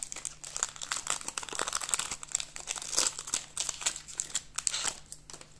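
Crinkling plastic wrapper of a Pokémon booster pack being torn open up close, a dense stream of crackles and rips with sharper tearing bursts, fairly quiet and unbroken for several seconds.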